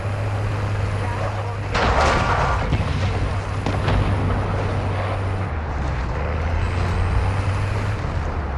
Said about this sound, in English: I've got the helicopter, I'm coming to you.